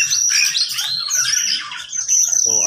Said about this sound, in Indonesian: banyak sekali burung serindit ya, yang berwarna hijau bermain dengan kura-kura